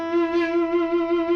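An electric guitar plays a whole-tone string bend from a solo, a single sustained note rising slightly in pitch and ringing steadily, moderately quiet and alone.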